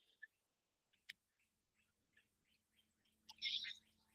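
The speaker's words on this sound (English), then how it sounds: "Can you guys hear the bird chirping?" A bird inside a house gives a series of faint, thin chirps, spaced irregularly, ending in a brief louder burst of twittering.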